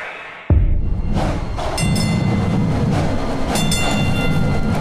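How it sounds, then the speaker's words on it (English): A DART Orange Line light rail train carrying passengers on its opening run into Irving rumbles past after a sudden thump, a loud, steady rolling roar with rattling wheel and car noise. "It's the first train full of passengers to travel on light rail into Irving"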